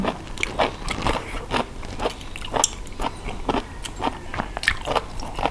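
Crunchy giant cockles are bitten and chewed up close, a rapid irregular series of sharp crisp crunches and cracks with no talking.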